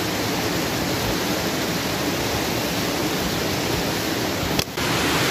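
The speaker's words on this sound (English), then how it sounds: "being right beside the waterfall" Waterfall right beside a cave campsite in a forest, a constant loud broadband rush of falling water filling the whole scene, with one brief dip near the end.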